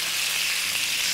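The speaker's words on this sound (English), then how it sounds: "now we're going to let these sear again for probably about 4 to 5 minutes on this side" Meat searing in a hot pan, a steady dense sizzle with crackling spatter, close and continuous with no talk.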